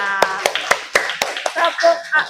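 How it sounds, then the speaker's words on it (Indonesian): A few children clap their hands in a classroom, sharp separate claps at first, then merging into scattered clapping with a teacher's and children's voices over it. "Tepuk tangan dulu buat temannya."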